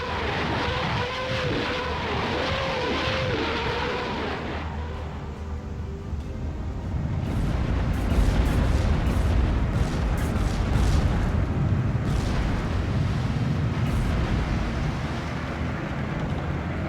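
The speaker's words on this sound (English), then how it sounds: "with a nice rocket barrage" Rocket artillery barrage in the wartime strategy game Steel Division 2: a low rumbling roar builds after a few seconds into a sustained wash of booming explosions, with a burst of sharp crackles partway through, loud and continuous.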